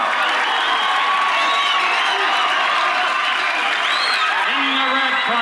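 A dense, loud boxing-arena crowd roars and cheers continuously as Apollo Creed enters the ring, with scattered whoops and shouts rising from the steady wall of noise.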